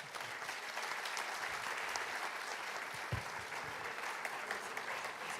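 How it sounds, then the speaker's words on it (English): Audience applause at a world congress fills the whole clip as a steady, dense wash of clapping from a large crowd. A few louder thumps stand out near the middle. "And once again, big applause for them."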